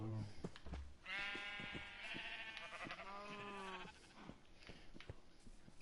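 Sheep in the Minecraft survival video game on PS4 bleat in a long, wavering cry at close range, with light clicks and tapping around it and no talk.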